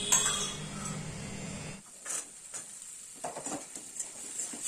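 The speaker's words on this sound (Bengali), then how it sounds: "তো আলুটা ভাজা ভাজা হতে থাক" Potatoes frying in white oil for Bengali aloo posto, a soft sizzle that fades after about two seconds, followed by scattered light stirring taps and scrapes in the pan.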